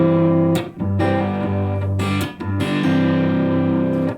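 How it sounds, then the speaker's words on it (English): An electric guitar with gain, played on the neck pickup, rings out a sustained, slightly distorted riff of held chords with brief breaks between phrases, close and loud with no talking. "My neck would sound like this."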